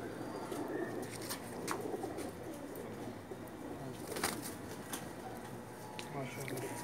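Pakistani pigeons coo softly and steadily on a rooftop while someone talks over them, with occasional flutters and faint chirps.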